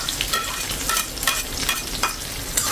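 Onion and garlic sizzle steadily in hot cooking oil for chicken pastil, a dense, close crackling hiss with small popping bursts and faint stirring, no talking.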